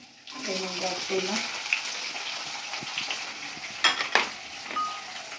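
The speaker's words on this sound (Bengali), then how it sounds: "এখন পেঁয়াজটা ভাজবো। পেঁয়াজটা দিলাম" Onion drops into hot oil in a pan and fries with a steady, close sizzle, broken by a couple of sharper clatters of stirring; a brief voice is heard at the start.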